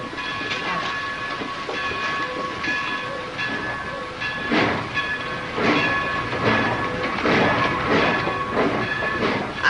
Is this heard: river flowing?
no